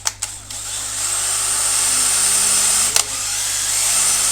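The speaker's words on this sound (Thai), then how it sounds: "เดี๋ยวลองเจาะเหล็กตัวหนาๆเหล็ก บีมตัวนี้นะครับผม" A heavy-duty DeWALT cordless drill starts with a few short bursts, then whines steadily and loudly as it bores into a thick steel beam, with a brief stutter partway through.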